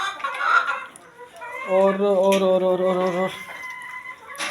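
Hens cluck and squawk close by, with one drawn-out, wavering call lasting over a second amid shorter clucks, while someone speaks briefly in between.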